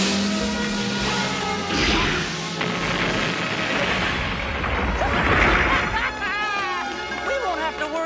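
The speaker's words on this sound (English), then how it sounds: "you smashed up another car" A loud crash of a car being smashed, metal crunching, with booming impacts and a whoosh, while voices shout and talk over the commotion in an animated series.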